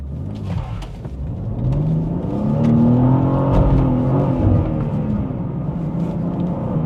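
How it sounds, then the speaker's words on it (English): A powerful rear-wheel-drive car pulls out of a junction sideways, its engine rumbling and revving up into a sustained, fairly close roar, with no talking. "Because you've got a lot of power, you let go of the clutch a bit quickly, you will go sideways."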